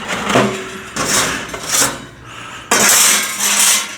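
A metal tray slides and clanks into a Nuwave Bravo Pro smart toaster oven and air fryer, with scraping rattles and a firmer metallic knock, close and loud.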